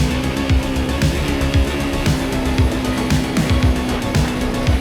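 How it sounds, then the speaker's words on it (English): A small Honda dual-sport motorcycle is ridden hard offroad, its single engine revving up and dropping in repeated rising bursts at close range, with no voices. "my little Honda Dualsport"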